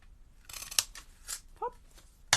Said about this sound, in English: Make sure I'm cutting it the right way.